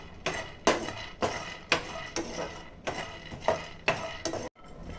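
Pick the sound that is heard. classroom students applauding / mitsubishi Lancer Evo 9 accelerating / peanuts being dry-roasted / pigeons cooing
peanuts being dry-roasted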